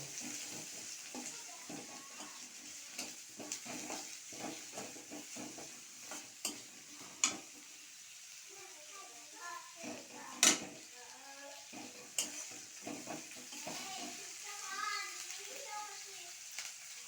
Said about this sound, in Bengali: পেঁয়াজগুলো ভালো করে লাল লাল করে আমি ভেজে নেব